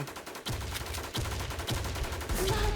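Video game gunfire: four sharp, fairly loud shots spaced roughly evenly over a constant background rumble.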